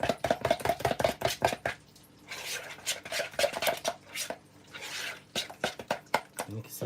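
A spoon clatters against a bowl as boudin ball dip is mixed, a fast run of sharp clinks followed by softer scraping and a few more taps, close by, with a voice talking over it.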